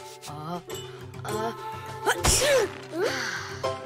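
A sharp, sudden sneeze bursts out amid a bright, busy cartoon music backdrop, with a squeaky voice rising just afterward.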